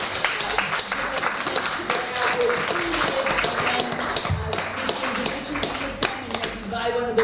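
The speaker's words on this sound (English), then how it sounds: "I'd like you to give them a round of applause." Audience at a poetry publishing panel applauds the poets, a dense patter of claps with some murmuring voices mixed in, steady across the whole stretch.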